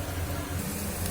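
Tempering sizzles in hot oil for a mixed dal sambar, a short burst of steady close hiss and crackle with no talk.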